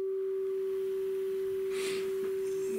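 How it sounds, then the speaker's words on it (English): Steady pure test tone played to set recording levels on a Type 3 FerroChrome cassette, one continuous unwavering pitch held throughout with a brief faint noise burst partway through. "So let's check the levels. Test tones now."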